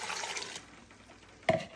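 Water runs briefly while being measured for cooking, a soft splashing pour that fades out, followed by a single sharp clink near the end.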